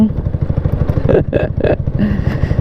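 A Honda Wave 125 motorcycle engine putters with a fast, steady rhythmic thrum while riding through a tunnel, loud and close. A brief voice breaks in over the engine midway.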